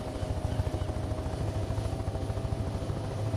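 A video game helicopter in Take On Helicopters flies low overhead, its rotor blades beating in a loud, fast, steady thump above a constant engine whine, heard up close without voices.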